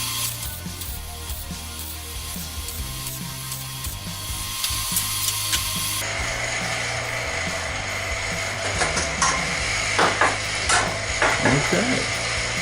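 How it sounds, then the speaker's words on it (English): Metal welding of a steel end cap to the inside of a skirt on a small metal figure sculpture, a steady close crackling sizzle with intermittent pops and bursts, interrupted by a few clanks and hisses. "Now we're welding the end cap to the inside of the skirt to give it some more support."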